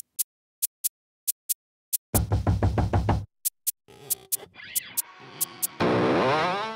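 An electric guitar track from a song plays alone, with sharp muted clicks and taps giving way to bursts of dense, distorted riffing and squealing, fluttering lead phrases.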